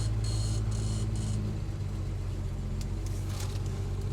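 Engine of a 1950 Studebaker R-Series truck droning steadily from inside the cab as it drives, a constant low rumble with a brief whine on top at the start.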